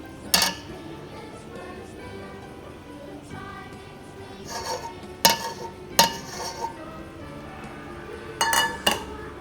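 Eggs being beaten into a date and walnut cake batter, with sharp clinks of a utensil against a bowl, scattered in bursts amid a quiet kitchen background.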